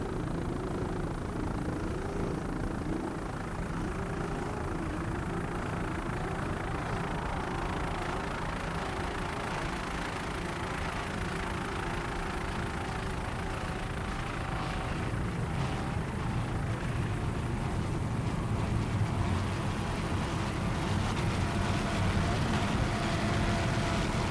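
A loud, steady engine roar from a Marine Technology 38-foot racing powerboat with two Mercury 750-horsepower engines, a broad rumbling hum holding constant throughout with a slight swell near the end, no voices.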